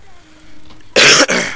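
Two harsh, loud coughs burst out close to the mic, one right after the other, following a few seconds of near silence from someone who is wheezing and short of breath in a hot room.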